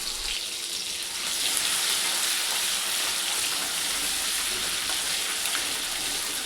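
Green chili and garlic paste sautéing in a hot pan for stuffed masala chilies, a steady, even hiss and sizzle with no talking over it.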